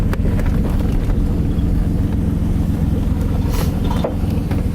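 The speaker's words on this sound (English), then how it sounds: "That sounds like exhaust system." A Greddy twin-turbo Nissan 350Z's exhaust drones steadily from inside the car, a constant low rumbling hum with a slight pulsing texture, even and sustained throughout with no speech.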